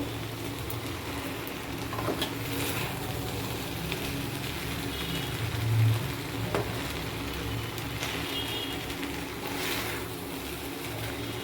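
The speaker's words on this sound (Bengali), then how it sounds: "দিয়ে আস্তে আস্তে করে এটা নাড়তে থাকবো" Pulao rice frying in a pan while being stirred slowly: a continuous, rain-like sizzle with soft scraping strokes and occasional clicks, with a steady low rumble underneath.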